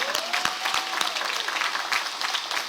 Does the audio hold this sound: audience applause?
yes